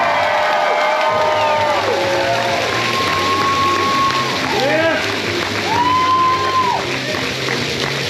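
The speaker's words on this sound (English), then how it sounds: "give them up one more time, a big round of applause for their outstanding work they're doing" A convention crowd at the Fan Expo Denver 2024 cosplay contest cheers and whoops for a youth showcase, with high whistling cries rising over a steady roar and voices talking underneath.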